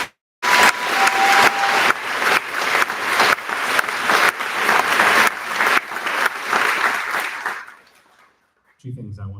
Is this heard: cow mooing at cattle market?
no